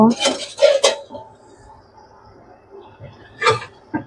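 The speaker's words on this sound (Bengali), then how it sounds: "এবার আমি ডাকাটা সরিয়ে নেব" Metal lid lifted off a cooking pot of pui saak with grains, several close clanks and scrapes of metal on metal at the start, then a quieter stretch and another clatter near the end.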